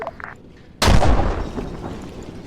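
A loud artillery impact from a counter-battery strike on mortar positions in a West German campaign war game: a sudden heavy boom after a quiet start, followed by a long rumbling, crackling decay.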